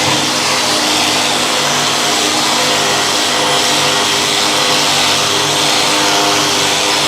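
Orbital sander working over a brake caliper during refurbishment, a loud, constant close-up whirring hiss with no break.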